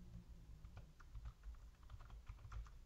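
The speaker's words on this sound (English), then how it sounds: "Let's type it by hand." Numbers being typed by hand on a computer keyboard, a steady run of quick, fairly faint key clicks in short bursts with brief pauses, heard alone with no talking.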